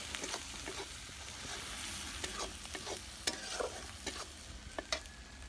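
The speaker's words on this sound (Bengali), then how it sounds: "এটা দিয়ে ভালো করে কষতে হবে" Crab curry masala being stir-fried in a pan with meat masala, a soft continuous sizzle broken by scattered scraping and clinking strokes of the spatula, fairly quiet and with no talking.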